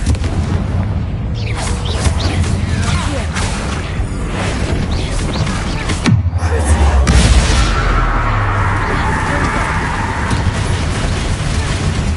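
A Confringo blast spell bursts in a tomb in the Hogwarts Legacy video game, a loud booming explosion midway through dense, continuous game sound with mechanical rattling and rumble throughout.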